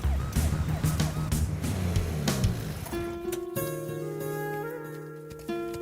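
An ambulance siren sounds amid traffic on a jammed road, its steady wailing tones rising loud above the road noise and continuing to the end.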